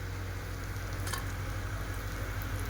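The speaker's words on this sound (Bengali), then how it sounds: "বড়াগুলো ভাজা হয়েছে তো তুলে নেব" Vegetable pakoras made with five vegetables frying in hot oil, a steady close hiss of sizzling with a faint brief clink as they are lifted out.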